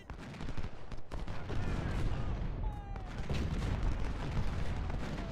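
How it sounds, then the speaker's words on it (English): Confederate artillery and gunfire on a Civil War battlefield in the Ultimate General: Civil War strategy game, a dense, distant rumble with scattered sharp cracks and booms beneath a faint voice. "dealing with a lot of Confederate artillery as well"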